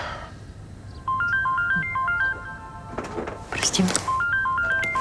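A mobile phone ringtone plays a stepped electronic melody, repeating in short phrases at moderate loudness, with a brief rustle and thump in the middle before the tune resumes, all indoors.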